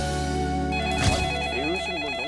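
A telephone rings with a loud, close electronic bell tone, a steady ringing pattern lasting a couple of seconds, heard on a Korean KBS TV program.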